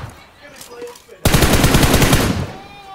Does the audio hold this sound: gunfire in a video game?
yes